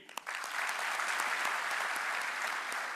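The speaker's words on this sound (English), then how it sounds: "What a nice audience. They're really clapping." An audience at a gems and jewelry industry awards ceremony breaks into sustained applause, a dense steady wash of clapping that swells within the first half-second and holds evenly throughout.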